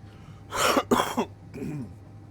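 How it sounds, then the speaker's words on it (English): A pair of harsh, throaty coughs up close, followed by a softer rasping clear of the throat, with no talking. "if you're wondering about the cough"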